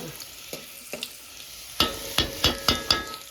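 Garlic frying in a pan in a home kitchen, a quiet sizzle broken by a series of sharp stirring or spatula scrapes, a few soft ones first, then five louder ones in a quick regular rhythm.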